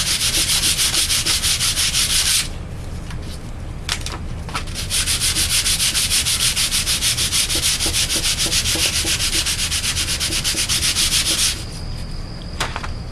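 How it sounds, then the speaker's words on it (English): Steady back-and-forth sanding of balsa wood model rocket fins, a loud close scratchy rasp in long continuous passes, broken by a short pause with a few light taps before the strokes resume. "Sand your fins."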